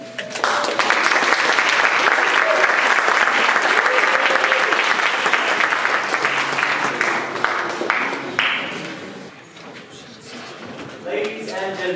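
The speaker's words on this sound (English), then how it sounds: "give them a round of applause as they approach the stage with their phenomenal director" Loud, sustained applause and cheering for the Grambling State University Jazz Band from a concert audience, dense clapping that swells then tapers off, with a voice speaking over the fading end.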